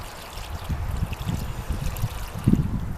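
A small amount of water poured into the soil around freshly planted mint roots in a garden, a soft close trickle and splash that swells briefly near the end, with no talking.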